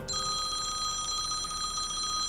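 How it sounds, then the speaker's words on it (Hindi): A telephone bell rings with a continuous bright electronic trill that holds steady for about two seconds, moderately loud with no voices. "तुम्हारा फोन बजी, घंटी बजी।"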